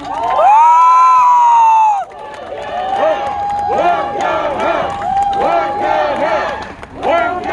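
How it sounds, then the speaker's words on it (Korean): A crowd at an election campaign rally for a National Assembly candidate in Yeongwol, Gangwon Province, cheering and shouting loudly and close, with a loud tonal blare at the start and excited voices rising in waves. "우리 후보자님에게 여러분 아낌없는 박수 다시 한번 부탁드리겠습니다"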